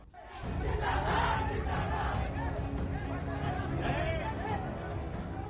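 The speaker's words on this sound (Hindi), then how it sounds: "यहां आई भीड़ किसी माफिया के भय से नहीं आई।" A large crowd gathered at Mukhtar Ansari's house, loud and close, with many voices shouting and chanting together in a continuous roar that swells and eases.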